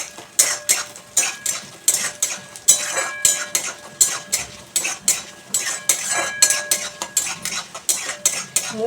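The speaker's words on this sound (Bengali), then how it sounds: "মুগ কলাইটাও একটু ভেজে নিচ্ছি।" Mung lentils being dry-fried and stirred in a pan, with a steady run of clinking spoon strokes scraping against metal, close and rhythmic, and a faint sizzle underneath.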